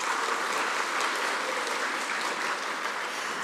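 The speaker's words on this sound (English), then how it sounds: "Let's give them all another round of applause." An audience claps after speakers at a speech competition, a steady, full round of applause that holds evenly throughout.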